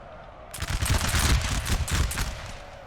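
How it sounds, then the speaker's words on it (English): Massed musket volleys in the video game Napoleonic Total War 3, a 4v4 battle between France and the UK, crackle as dense overlapping gunfire that starts abruptly and rolls on continuously at moderate loudness. "Just volley upon volley."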